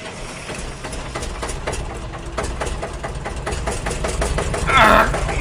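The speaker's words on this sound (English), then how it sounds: "Boy, that's a loud engine." A loud BoCo diesel engine idles with a steady, rough mechanical drone and rhythmic knocking pulses, swelling slightly toward the end with a brief higher whine.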